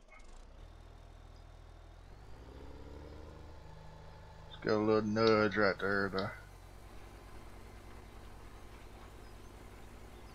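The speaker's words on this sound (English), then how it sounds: "I gotta repair this tractor or get rid of it because it's getting really, really sluggish." A steady low engine drone from a sluggish tractor in Farming Simulator 17 runs under a brief spoken remark, with a thin high whine layered on top.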